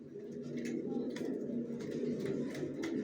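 Racer pigeons coo softly in a loft, with overlapping low throaty calls in a continuous murmur and a few faint sharper sounds on top.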